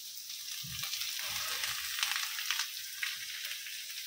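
Chickpeas frying in a pan at home, a continuous bright sizzle with crackling pops and a few soft stirring scrapes, steady and close with no voices.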